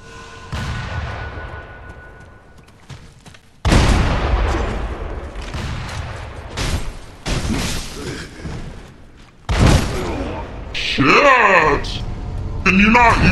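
Bursts of gunfire and impacts from the game Elden Ring (DLC) crack out in several loud clusters, mixed with shattering effects and other game sounds.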